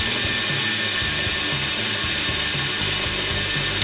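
A wood lathe spinning a pen blank while heat dries oil on the wood, a steady close mechanical whir and hum with a light repeating rattle, alone without talk.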